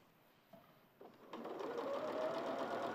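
A sewing machine stitches quilt binding. After two soft clicks it starts up and settles into a steady, fast, close whir that holds to the end.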